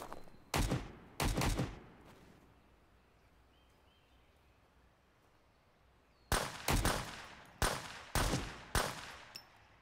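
Gunfire in a realistic survival video game: two sharp, loud shots early, then a quiet stretch of faint ambience, followed by a rapid run of five or six cracking shots toward the end.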